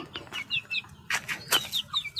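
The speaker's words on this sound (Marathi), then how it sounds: "कोंबडी सर्व या लागली थांबलो हे बघा आलेत" Chickens gathering for feed cluck and chirp in quick bursts close by, mixed with a few rustling flaps of wings.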